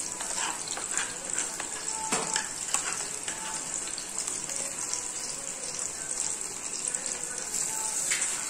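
Poppy seed paste sizzles and fries steadily in a hot frying pan for a Bengali dish, with a constant close hiss, occasional stirring scrapes and brief soft clinks, and no talking.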